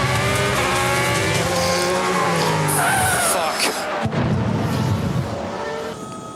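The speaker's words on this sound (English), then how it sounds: "And then literally on lap 1, this crash happened." A Formula One race car crashes on lap 1 three corners in, with engine roar and tire squeal sweeping through, a sharp impact midway, then fading noise.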